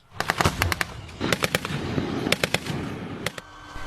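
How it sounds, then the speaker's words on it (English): Rapid bursts of gunfire and cannon fire from live-fire military drills at sea, heard as sharp, clustered cracks in several volleys over a steady rumbling background. "These are live fire drills, which also include artillery, guns and cannon fire to annihilate the enemy at sea."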